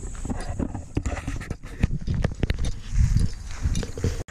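Horses on a dirt trail at a horse park, hooves clip-clopping in an irregular close rhythm with some shuffling and snorting, no talk.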